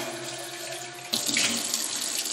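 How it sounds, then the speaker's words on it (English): Tap water running through an orchid pot: a low hum at first, then water suddenly gushes into the pot and splashes steadily, close and bright, with no one talking. "I just run some tap water through it."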